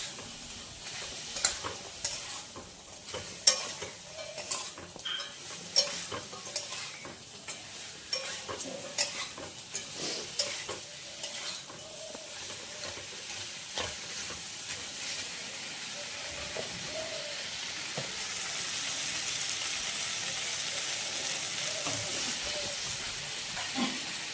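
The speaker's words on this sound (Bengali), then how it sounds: "কাঁকড়াটা দিয়ে একটু নাড়ি কষি একটু কষে তারপরে জল দেবো" Crab for a Bengali teli crab curry being stirred and fried in a pan, soft sizzling and hiss with irregular scraping stirs early on, settling into a steadier frying hiss, quiet and close.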